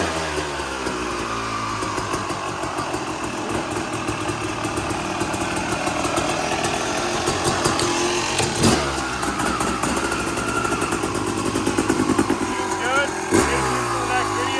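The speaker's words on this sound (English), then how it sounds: "We're gonna start this thing up, and let's see if it sprays out again," Yamaha YZ250 two-stroke dirt bike after a water pump rebuild, its engine running close and loud with a buzzy, rapid firing note and small revving surges, while a person talks over it.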